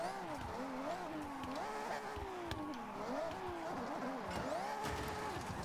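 Car drifting in Forza Horizon 4, a steady engine drone with pitch rising and falling through revs and long tire squeal running throughout, loud and continuous.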